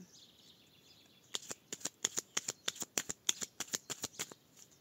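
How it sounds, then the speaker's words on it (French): Tarot cards are shuffled close up in a quiet room: a quick run of sharp, crisp riffling snaps comes in an uneven rhythm after a brief hush. "Allez, on va regarder quelques cartes"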